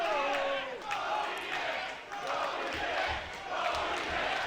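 Capacity crowd at a 1PW professional wrestling match in the UK, a steady roar of arena noise with swelling cheers and shouts that rise and fall, with a commentator's voice over it.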